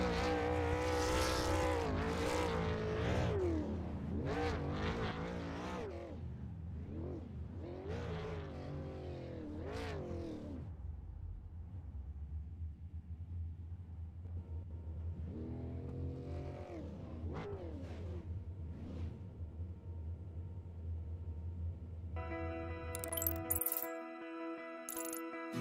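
Sim race cars in iRacing at North Wilkesboro rev and roar in repeated rising and falling bursts, several engines close by, fading to a quieter drone before music cuts in at the end.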